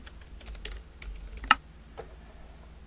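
Typing on a computer keyboard during a CorelDRAW text tutorial, a scattered run of light key clicks with one sharper, louder strike near the middle, close and alone without talk.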